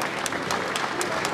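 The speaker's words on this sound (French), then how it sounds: "On applaudit s'il vous plaît" Audience applause at a gathering of the Ivorian diaspora in Paris welcoming politician Kouadio Konan-Bertin: a short, steady burst of many hands clapping, dense and evenly sustained at moderate level.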